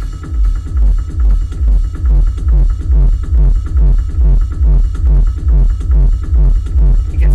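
Bass-heavy music plays through an aftermarket subwoofer installed in a Toyota RAV4, a loud, steady pounding low-end beat that throbs in a regular rhythm for the whole stretch, with no voices over it.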